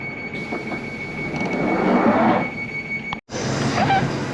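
A London Underground Northern Line train rumbles along with a steady broadband roar and squealing wheel tones, briefly cutting out near the end before the noise resumes, loud and continuous.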